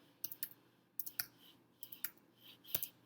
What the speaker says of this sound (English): Looks like my typing today is extremely horrible.